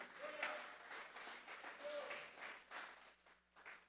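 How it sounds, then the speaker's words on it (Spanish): A church congregation applauds during a Sunday morning sermon, scattered clapping from a modest crowd with a few voices calling out, moderately distant and uneven. "Démosle un aplauso pues al Señor esta mañana."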